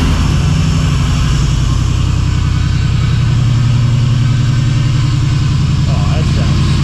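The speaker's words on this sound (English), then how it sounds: "Fuel pump noises." Fuel pump whirring on a drag car, a loud steady buzzing drone that holds evenly for several seconds with a faint voice near the end.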